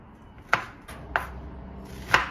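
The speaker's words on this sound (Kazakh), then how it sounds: "Балдыр көк пен фасольді орташа түйіршіктерге кесіп аламыз." A knife chops celery and green beans into medium pieces on a board, three sharp, separate taps spaced irregularly over a quiet background.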